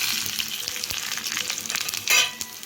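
Bay leaf, a dried chilli, fenugreek, nigella and fennel seeds fry in hot oil for a Bengali tempering, giving a steady close sizzle with light crackles and a brief louder spurt near the end.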